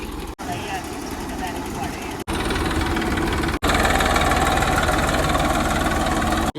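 A tractor engine drones steadily and loudly while sowing onions in a field, a continuous low running rumble interrupted by a few abrupt cuts.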